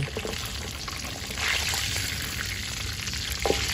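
Sun-dried beef frying in a pan, a steady close sizzle with light crackle and a brief stirring clatter near the end, no voices.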